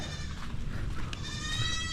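A goat bleats in a drawn-out, wavering call over a steady low rumble of background noise on a farm, fairly close and continuous throughout.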